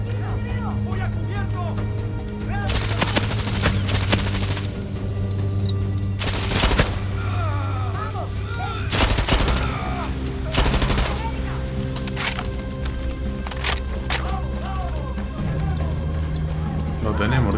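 Rifle gunfire in Far Cry 6, with loud bursts of rapid shots separated by pauses over a steady game background hum, while someone talks in Spanish.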